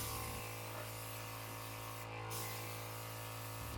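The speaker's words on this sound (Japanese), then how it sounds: "コンプレッサーの音はこんな感じです。" An airbrush compressor runs nearby with a steady electric hum and even, hissing air noise, holding constant with only a slight change in tone partway through.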